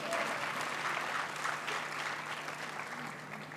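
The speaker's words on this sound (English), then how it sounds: "That deserves a round of applause" Graduates and guests at a university graduation ceremony applaud, a steady crowd-wide clatter of clapping that fades slightly toward the end, with a faint hum underneath and no talking.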